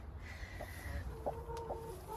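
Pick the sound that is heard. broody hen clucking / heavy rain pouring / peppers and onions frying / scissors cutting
broody hen clucking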